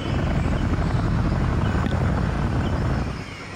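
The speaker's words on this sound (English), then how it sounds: "The Chinook is going to go pick up the injured unit." A Chinook helicopter in the Vietnam War game Vietnam '65 gives off a steady, loud rotor drone with broadband wash that holds throughout and eases slightly at the end, with no talk over it.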